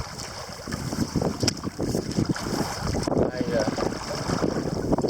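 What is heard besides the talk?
wind and waves on a lake while canoeing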